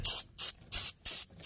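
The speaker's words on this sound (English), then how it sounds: "I'm gonna get some contact cleaner and spray out that connector real quick." An aerosol can of contact cleaner sprays into an automotive connector on a 4.6L V8 Ford Explorer, four sharp hissing bursts in quick succession with short gaps, loud and close.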